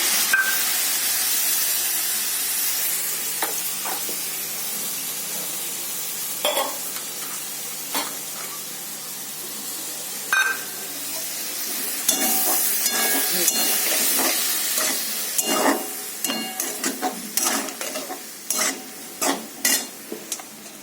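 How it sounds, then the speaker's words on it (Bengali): Spice paste hits a hot pan for a Bengali prawn dish and fries with a constant sizzle, while spoon stirs and scrapes knock sharply against the pan and come faster toward the end. "এইবার এই মশলাটা ঢেলে দেব। এই দেখো ঢেলে দিলাম।"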